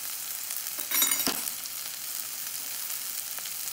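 Onion and ginger sauté in a pan over medium heat with a soft, steady sizzle and a brief louder burst of frying near the start, faint and close with no talking.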